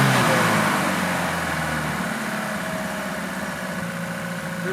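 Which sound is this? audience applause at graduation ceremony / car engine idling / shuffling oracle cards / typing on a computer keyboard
car engine idling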